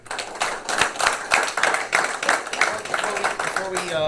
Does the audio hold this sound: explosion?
no